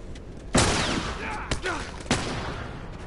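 Gunfire in The Last of Us: three sharp, loud shots about a second apart, each with a ringing tail, over a low background rumble.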